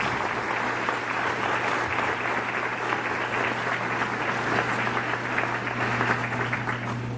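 A church congregation gives steady, moderately loud applause for a pilgrimage group back from the Holy Land at a farewell Mass in a parish in Campinas, clapping continuously with a low hum underneath.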